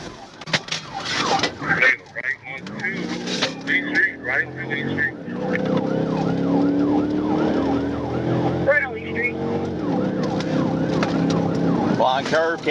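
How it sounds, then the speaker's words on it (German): Police car siren wailing during a high-speed pursuit, rising and falling continuously and loudly over engine noise, with voices talking over it throughout. "Als SGT Calvert die Sirenen einschaltete, beschleunigte der Fahrer sofort und startete eine neue Flucht."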